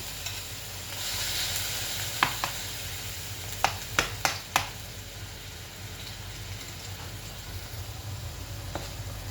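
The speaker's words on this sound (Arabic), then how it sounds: "قلبوا البصل ديالنا حتى كيتشوح" Finely chopped onions frying in five spoonfuls of vegetable oil for lasagna, a steady hiss and sizzle with several sharp clinks of a utensil stirring against the pot, no voices.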